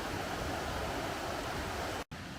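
Rushing water of Haltwhistle Burn, a stream on a countryside walk, pouring in a loud, continuous broadband roar close by, briefly cut off near the end.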